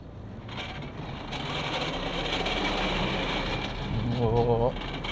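A Mazda BT-50 dual-cab ute's engine drones steadily on off-road test rollers, rising slightly in effort as throttle is applied, with a brief tonal whine near the end; a voice talks over it throughout.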